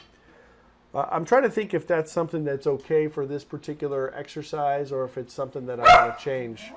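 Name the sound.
dog barking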